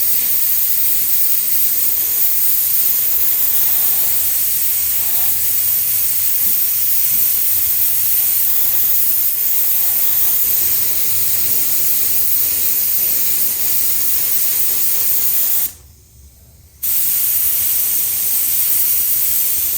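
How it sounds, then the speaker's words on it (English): An airbrush sprays silver metal flake paint onto a motorcycle, giving a loud, steady hiss that runs almost without a break and cuts out briefly for about a second near the end. "The idea is you don't want to spray this as dark as the other."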